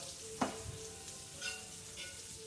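Butter and olive oil sizzle in a pan for a scramble, a quiet steady hiss with a sharp crackling burst near the start and a few smaller spits afterward, no voices.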